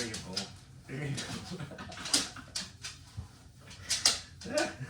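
A dog sniffing busily and letting out soft whimpers and yips, close by indoors, with scuffling and a person talking over it in bursts.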